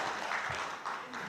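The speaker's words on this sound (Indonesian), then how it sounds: "boleh tepuk tangan" A crowd claps together at a cultural address and sermon event, a broad wash of applause heard for a moment, with a voice faintly mixed in.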